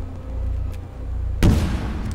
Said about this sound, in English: Explosions! Explosion!